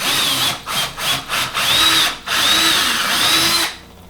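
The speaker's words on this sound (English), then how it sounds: "So I want to pre-drill that." A power drill pre-drills into a wooden wall stud, with a few short trigger bursts followed by two longer whining runs under load that stop abruptly.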